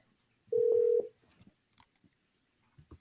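A telephone keypad gives one steady, loud dialing tone lasting about half a second, followed by faint clicks and soft handling noise in a quiet room.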